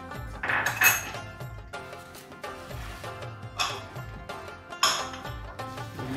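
Chicken pakora batter is mixed in a bowl, giving irregular clinks and scrapes of a utensil against the dish over a musical background.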